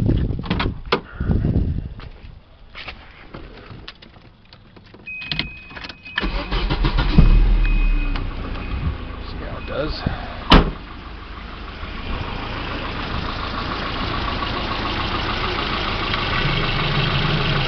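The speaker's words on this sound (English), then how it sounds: "So let's start this one up first." A Volvo B230F engine, under a crankcase pressure test, starts after a few clunks and a door sound, catching with a sharp burst and then settling into a steady, continuous idle; someone speaks briefly.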